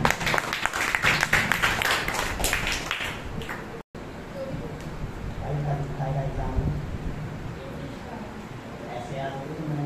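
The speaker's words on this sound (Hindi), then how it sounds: "जोरदार ताली बजाओ।" An audience applauds loudly with dense, fast clapping for about four seconds, then the clapping gives way to a voice speaking over lingering room noise.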